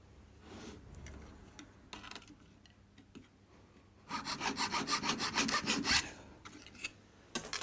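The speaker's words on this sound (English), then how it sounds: "It's a little model maker's sort of craft saw" A small model maker's craft saw trims a piece of wood for box making, a fast run of rhythmic rasping strokes in the middle, close and fairly loud, with quieter scraping and handling before and a short stroke at the end.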